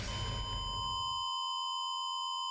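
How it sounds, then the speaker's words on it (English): A video game gives off a loud, sustained electronic beep, a steady pure tone holding constant while a burst of noisy game sound underneath fades out within the first second. "That loud beeping just got annoying."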